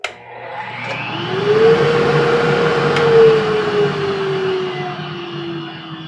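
A dust collector motor switched on after being plugged in, a loud steady whirring drone with a rising hum as it spins up, running continuously without speech.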